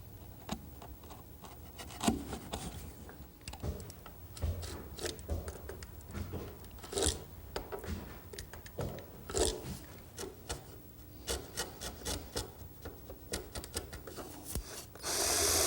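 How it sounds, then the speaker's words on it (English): A chisel pares and taps out a half mortise for a lock in wood, with faint, close scraping cuts and irregular light knocks spread across the quiet stretch, ending in a brief louder rustle. "The rest of the work I'll do with the chisel."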